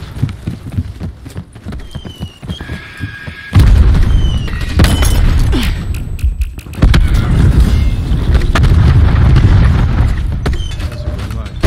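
War Machine grenade launcher rounds go off in Call of Duty Black Ops 4 multiplayer: heavy booming blasts and rumbling impacts, loud and dense, with mechanical clatter and scattered game noises between them.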